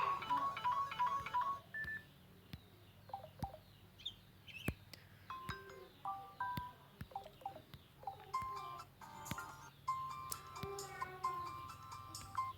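Imo app ringtone playing from a phone, a faint string of chirpy electronic beeps and bird-like tweets in an irregular melodic pattern, soft and close.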